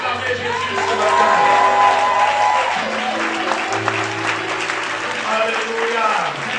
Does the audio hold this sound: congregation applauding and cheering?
yes